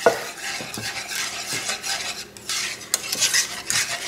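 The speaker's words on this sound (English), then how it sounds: "we want to mix it around. We don't want it to clump up" A utensil stirs a cauliflower pizza sauce of milk and cream cheese in a pan, with steady scraping and swishing and a soft sizzle underneath, close and continuous.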